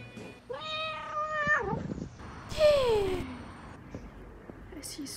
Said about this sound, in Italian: È un gatto.